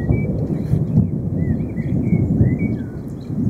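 Low, rolling thunder rumbles continuously during a rainstorm at a fishing spot, loud and sustained, while birds chirp faintly above it and no one speaks.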